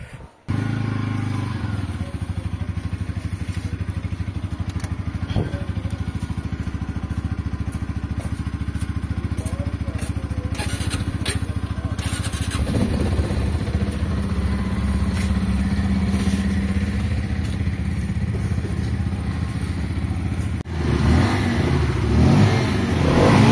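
A motorcycle on a Kodaikanal hill trip idles steadily near the rider, then revs and pulls away, the engine note rising and roughening toward the end, with no speech over it.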